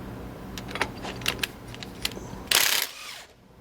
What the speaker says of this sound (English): We'll need to remove the nuts for our U-bolts on the rear axle.